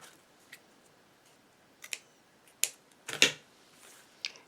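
Scissors cutting ribbon while making small bows, heard as a few faint, sharp snips spread irregularly across otherwise quiet moments.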